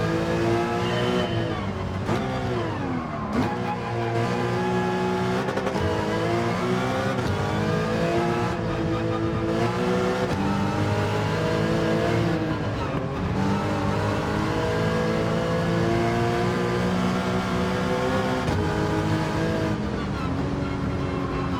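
A Porsche Cup race car in a racing video game, its engine howling steadily with repeated revs rising and dropping through gear changes and braking, loud and continuous for over twenty seconds with occasional talk underneath.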